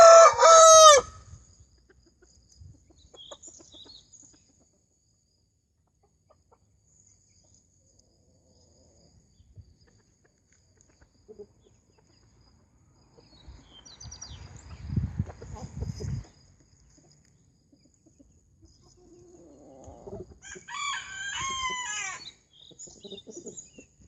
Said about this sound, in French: le coq Pékin n'arrête pas.